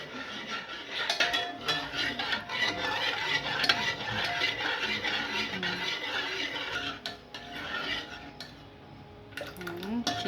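Rice cooking in milk in a pot, stirred steadily with a metal spoon that scrapes and clinks against the pot rim, continuous and close, with faint voices in the background.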